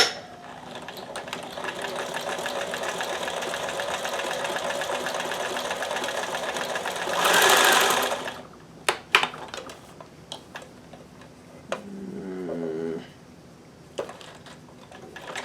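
A sewing machine with its presser foot pressure turned to maximum stitches fabric in a steady, close whir for about eight seconds, then stops, leaving scattered clicks and a brief low hum.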